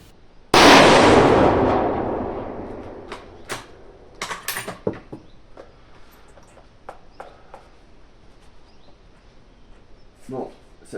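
A single sharp .308 Winchester rifle shot cracks at a shooting range, loud and close, then its echo fades over a couple of seconds. Small clicks and handling noises follow, and a faint voice is heard near the end.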